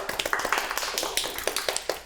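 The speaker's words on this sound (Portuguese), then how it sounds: "Uma salva de palmas." A small studio audience claps for a nutrition doctor guest on a talk show, with quick, evenly spaced hand claps close by, crisp and dry, over a short burst.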